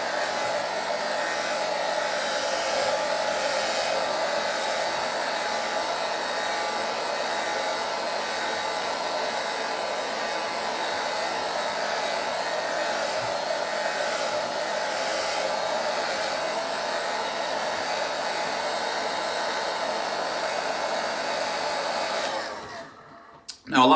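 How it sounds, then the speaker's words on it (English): A blow dryer roars steadily at close range while a beard is dried and brushed straight down, a constant loud whoosh that cuts off abruptly at the end. "Notice how the blow dryer is following my brush down."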